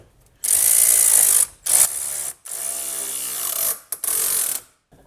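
A powered driver with a T25 Torx bit fastens a push pin holding the cooling fan on a BMW with an M52/M54/M56 engine, whirring in several close, loud bursts separated by brief pauses.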